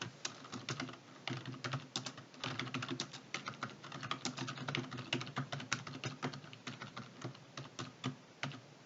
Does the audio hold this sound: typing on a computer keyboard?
yes